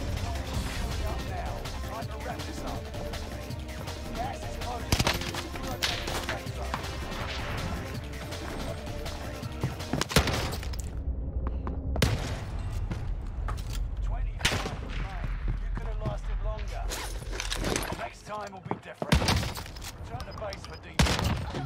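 Loud, close bursts of gunfire and crashing impacts from a Warzone Pacific match, including shotgun blasts, in dense repeated volleys with a voice talking over parts of it.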